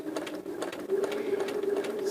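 A sewing machine stitches quilt-as-you-go hexagons, its motor whirring in a steady rapid chatter of needle strokes close up, briefly uneven at first and then running continuously.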